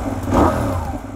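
A Benelli 752 S motorcycle engine revs up briefly and holds a gritty mid-pitched drone, close and fairly loud, with no voices.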